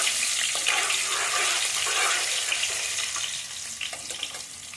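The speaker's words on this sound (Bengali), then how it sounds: "এবার টমেটোগুলো দিয়ে দেবো টমেটোগুলোকে একটু ভেজে নেবো" Tomatoes frying in a pan with a close, airy sizzle that softens and thins toward the end, a few light scrapes in it. No one speaks.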